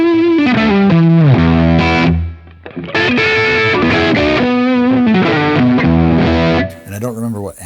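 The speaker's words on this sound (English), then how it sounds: "Let's just add a little bit of reverb." Distorted electric guitar through a Line 6 Helix LT modeling a Matchless amp with a cabinet IR and added reverb, playing loud chords and riffs up close with a short pause midway and a ringing tail at the end.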